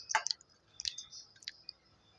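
Mashed mango being mixed by hand, giving a few soft, wet squishing and sticky clicking sounds in short separate bursts, close up and fairly quiet.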